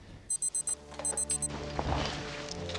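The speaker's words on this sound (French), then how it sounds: "Et même Pouchkine possède son petit gadget, une montre alarme qu'il déclenche quand il est surpris par Bond dans sa chambre avec sa maîtresse." A villain's alarm wristwatch gadget in a James Bond film beeps in two quick bursts of four shrill electronic tones, followed by a muffled low rumble of movement.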